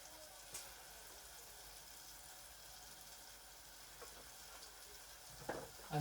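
Spice tempering of amchur powder, cumin and coriander-cumin powder frying in hot oil, a soft continuous sizzle heard close and fairly quiet, with a brief clatter near the end.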